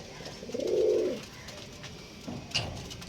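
A Kalanka pigeon gives a low, soft coo up close, followed by a fainter, shorter coo a moment later in an otherwise quiet space.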